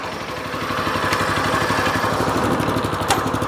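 A Weima WM1100C-6 walk-behind tractor engine idles with the choke closed, a loud, close, steady single-cylinder chug with a rapid even pulse and faint metallic ticks.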